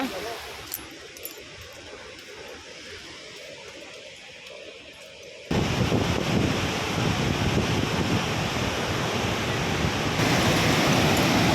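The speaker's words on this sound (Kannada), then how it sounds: "ನೀರು ಹೋಗ್ತದೆ." Water flowing out of Linganamakki dam in Shimoga district makes a steady rush, partly masked at first by wind buffeting the microphone, then swelling abruptly into a much louder, closer roar halfway through.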